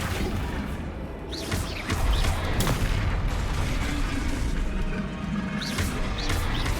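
Flipendo spell effects during combat in the Hogwarts Legacy video game: loud, repeated booming impacts and crashing bursts over a dense, rumbling battle backdrop, with no voices.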